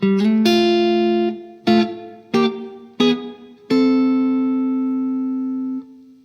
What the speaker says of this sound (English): just so you get more of a staccato sound like this